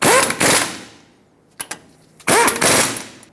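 A hand ratchet snugs the hub assembly bolts on a 2000-2005 Ford Excursion front wheel bearing job: two loud bursts of rapid clicking, a couple of faint ticks in between, then a third burst.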